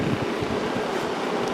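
A Kenmore 5,450 BTU window air conditioner runs on high fan speed, giving a steady, loud broadband whoosh of blowing air with a low motor rumble underneath, constant throughout with no voices.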